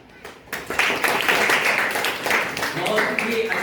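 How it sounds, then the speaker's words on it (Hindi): An audience at a student seminar applauds a student speaker, a dense, steady wash of clapping that swells in after a brief quiet start and carries on throughout, with voices mixed in. "तालियां इनके लिए।"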